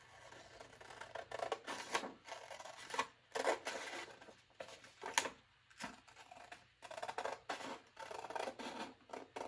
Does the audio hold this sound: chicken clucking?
no